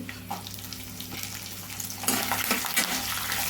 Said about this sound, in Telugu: పచ్చిమిరపకాయ ముక్కలు కూడా బాగా వేగాలి